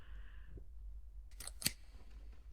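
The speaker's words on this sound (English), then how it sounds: "I think that's supposed to be scissors." In the PS1-style horror game The Space Between, a pair of scissors gives a couple of quick, sharp snips in a quiet, dark ambience.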